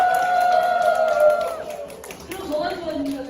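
A lecture-hall audience lets out a loud shout after a round of clapping, the voices merging into a sustained roar that dips and rises again across a few seconds.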